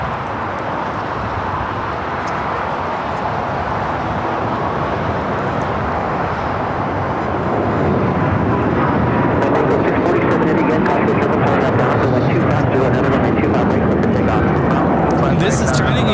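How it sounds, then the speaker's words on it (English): A China Eastern Boeing 777-300ER jet takes off at LAX as a loud, continuous roar that fills the whole clip and swells further toward the end, with voices talking over it. "This is China Eastern Airlines 586 taking off to Shanghai on the 777-300ER"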